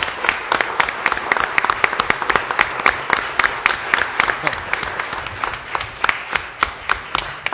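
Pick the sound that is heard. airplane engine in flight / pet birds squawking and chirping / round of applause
round of applause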